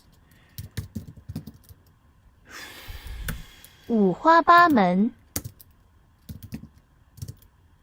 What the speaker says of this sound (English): I just keep hitting the wrong keys.